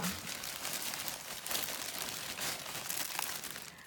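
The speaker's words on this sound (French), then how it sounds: "je vais enlever tous les emballages" Gift wrapping pulled off and crumpled up close, a continuous dense crinkling and rustling of paper that stays steady throughout.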